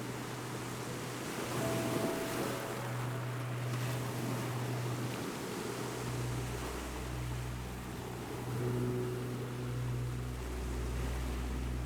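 A steady wash of ocean waves rolls on, joined by a low, droning engine hum like a passing boat that swells and eases throughout, with no voices.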